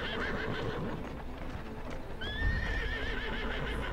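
A horse in Assassin's Creed Syndicate neighs with a rising whinny partway through, while steady clip-clopping hooves run underneath against a busy game background.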